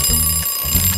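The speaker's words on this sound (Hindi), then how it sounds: "और यह क्या है, अलार्म?" An alarm clock rings loudly and close by, a steady rapid electronic beeping that carries on for the whole second with no voices.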